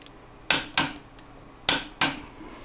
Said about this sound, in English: So I'm using my 1/2-inch drive torque wrench, and I'm going to run it up to that torque.